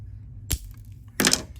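Two sharp snips of cutters trimming copper wire, close and crisp, separated by a short pause over a low background hum.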